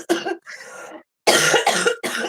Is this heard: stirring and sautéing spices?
no